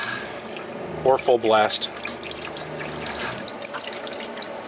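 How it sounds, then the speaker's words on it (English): Water runs from the faucet of a Fleetwood Yuma popup camper in a steady stream while the water pump surges, with a voice speaking briefly over it. "So you can hear the pump surging."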